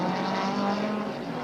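A NASCAR stock car from the 1980 World 600 Winston Cup race drives along behind the pit wall, its steady engine drone loud and continuous throughout with no talk over it.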